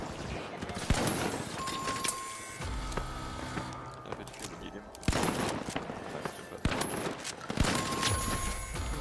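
Rapid bursts of gunfire from the video game The Finals, loud and close, come in several volleys separated by brief lulls, with a player talking over the action.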